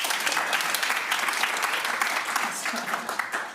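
An improv comedy theater audience breaks into applause, with dense, lively clapping that holds steady for a few seconds before thinning slightly at the end.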